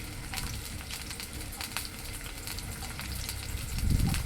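Sliced onions and dried red chillies frying in a pan for a chicken fry dish, a steady soft sizzle with occasional clinks and a low stirring rumble near the end.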